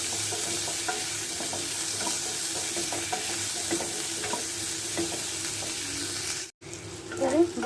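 Ingredients lightly frying in a pan for a chicken bharta, a continuous close sizzle with repeated spatula scrapes and stirring, a brief cut-out near the end followed by louder clatter.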